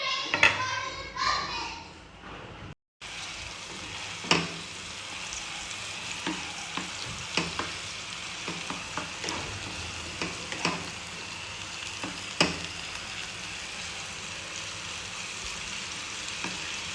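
Chicken tikka masala frying in hot oil, a steady sizzle with repeated stirring scrapes and clicks close by, while a voice is heard talking at the start.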